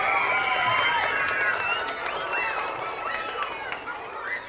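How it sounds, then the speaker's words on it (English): Children in an elementary school audience at a book festival clap and cheer for a correct answer, a lively crowd sound with excited high voices throughout. "Let's get a huge round of applause for that answer."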